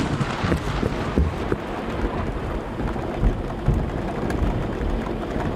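Heavy rain in a video game, a dense, loud, steady hiss and patter with low rumbling beneath, continuous with no voices.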